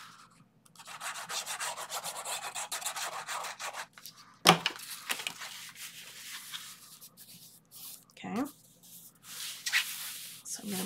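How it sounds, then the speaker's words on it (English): Paper tabs on a craft photo wallet burnished flat by hand, a close, dry rubbing and scraping in several short bursts with brief pauses, fairly quiet throughout. "Burnish those down."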